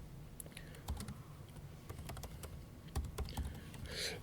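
Quick irregular clicks of fingers typing on a computer keyboard, close and fairly quiet, with brief pauses between bursts of keystrokes and no talk.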